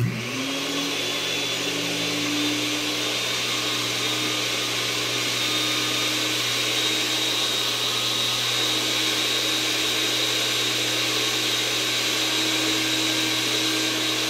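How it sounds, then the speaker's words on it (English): A blender motor, running without its lid on a Bluetti EB55 power station, starts up and settles into a loud, steady high-pitched whir that runs without a break. "All right, so here goes the blender."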